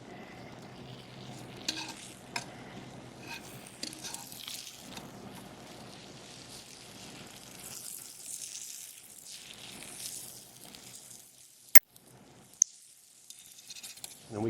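Taco tortillas toasting on a hot griddle after being flipped, a faint steady sizzle with soft scrapes and a couple of sharp metallic clicks near the end, quiet and without talk.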